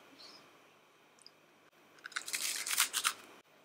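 Crunchy bread with tomato being chewed up close, a short run of crisp crunches near the end after a quiet stretch.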